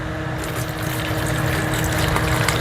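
Denatured alcohol is poured into a 5-quart bucket of metal parts, a steady close splashing and trickle of liquid running continuously.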